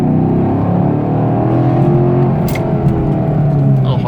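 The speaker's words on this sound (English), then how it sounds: "A little quick acceleration for you guys." A 2016/2017 Chevrolet Camaro SS with a six-speed manual gearbox accelerating quickly, its V8 heard from inside the cabin as a loud, steady, rising engine drone with no talking.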